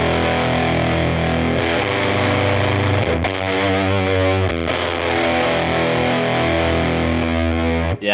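An electric guitar is played through the Woodrow amp plugin with boost engaged, giving a thick, saturated fuzz distortion; loud sustained chords ring and change a few times, with no talk.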